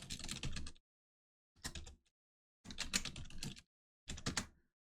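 Bursts of typing on a computer keyboard, four separate runs of quick close key clicks with short silent gaps between them, no talking.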